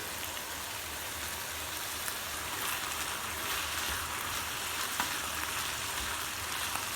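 Meat and peppers frying in a pan in a home kitchen, a dense steady sizzle and crackle, close and constant throughout with scattered small pops.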